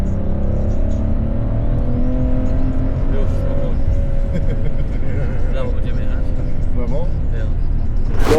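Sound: modified car accelerating as the gas pedal is pressed

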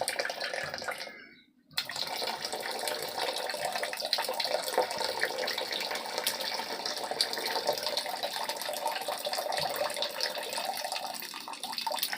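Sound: washing boiled wild greens with water

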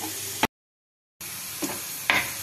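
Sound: besan gram flour being stirred and roasted in ghee

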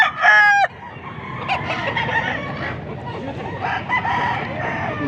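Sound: young roosters (stags) crowing at a poultry market

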